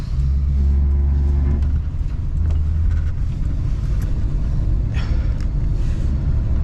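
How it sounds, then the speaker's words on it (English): A 1979 Ford Thunderbird drives along a road, its steady low engine rumble and road noise heard from inside the car, loud and continuous with no talking. "Really easy to drive car, drives really nice and smooth."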